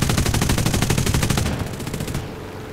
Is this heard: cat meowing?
no